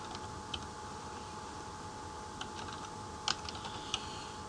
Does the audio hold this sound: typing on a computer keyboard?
yes